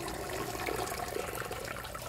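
Hot water pours and drains steadily during the butchering and processing of backyard chickens, a continuous close splashing rush with no talk over it.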